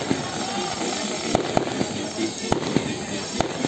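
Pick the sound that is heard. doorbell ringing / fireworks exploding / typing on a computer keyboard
fireworks exploding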